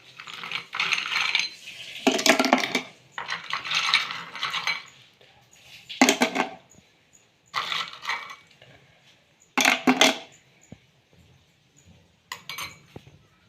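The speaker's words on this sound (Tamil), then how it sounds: "மிக்ஸி ஜாரில் வந்து ஐஸ் கட்டியை போட போகிறோம்" Several bursts of hard ice cubes clatter and rattle into a blender jar, separated by short pauses, close and fairly loud.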